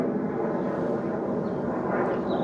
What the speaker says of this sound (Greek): Τα αεροπλάνα δεν τα γλιτώνουμε πουθενά, μου φαίνεται, σε όλη την ευρύτερη περιοχή.